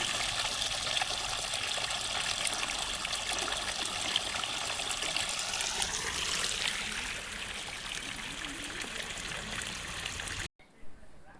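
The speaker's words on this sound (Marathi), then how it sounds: "जे काही खराब पाणी आहे ते काढण्यासाठी दादांनी मोठी चालू करून घेतली आणि पाण्याचा ट्रायल करून घेतला" Water rushes steadily through newly opened drip irrigation pipes during a trial run to flush out dirty water on a farm, a continuous close gush that fades slightly before cutting off near the end.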